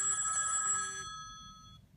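iPhone ringing with an incoming call, a bright tonal ringtone with stacked harmonic notes that plays steadily and then fades away, heard alone with low room noise underneath.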